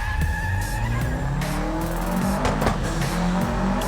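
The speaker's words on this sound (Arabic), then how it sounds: "بس سامعين صوت الباك فاير عامل ازاي يا جدعان؟" Engine roar and tire screech from a race car in the mobile racing game Need for Speed No Limits, with brief popping backfire bursts over a loud continuous drive and skid, no voice.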